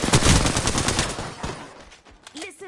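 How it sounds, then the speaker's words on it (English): Rapid automatic gunfire in the shooter game Shadowfall, loud bursts crowding the first second and a half, then thinning to scattered shots as a voice speaks near the end. "Listen up, I'm getting shot at."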